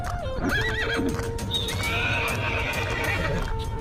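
Horses in a cartoon story whinny in a high, shaking neigh over steady galloping hoofbeats, loud and close, followed by a second drawn-out call.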